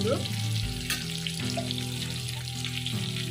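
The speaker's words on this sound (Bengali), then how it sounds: "পরিমাণ মতো দিয়ে ভালো করে আমি একটু ভেজে নেবো" Ground spices, Kashmiri chilli and coriander, frying in a pan for a cabbage dal tarka, a soft continuous sizzle running beneath low tonal background sounds.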